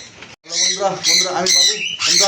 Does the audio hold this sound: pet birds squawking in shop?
yes